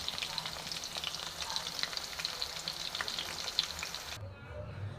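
Chicken pieces for double fried honey chicken fry in a pan over medium flame, a bright crackling sizzle with scattered spatters that cuts off abruptly near the end, leaving a low rumble.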